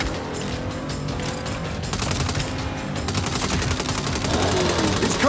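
Rapid gunfire from a Saints Row shootout, dense automatic bursts building in intensity over steady game sound, with a voice briefly audible under the shots.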